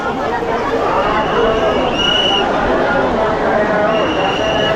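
Dense, loud crowd hubbub of many voices at the Maha Kumbh Mela bathing ghats, with continuous babble and a few distant whistles over it.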